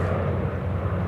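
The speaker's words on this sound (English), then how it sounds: "we've got a Dash 8 now pumping it out here, runway 34 right" Dash 8 turboprop engines power up on runway 34 right at Sydney Airport, a loud steady droning roar heard at a distance, continuous with no voices.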